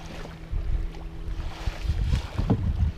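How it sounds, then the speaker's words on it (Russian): A small 10-horsepower Mercury outboard motor on an inflatable boat drones steadily with a low hum, mixed with wind buffeting and water noise, fairly close and continuous. "Ну вот, движок Меркурий. Десятка."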